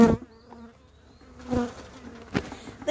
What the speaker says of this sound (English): There's still some bees in this box.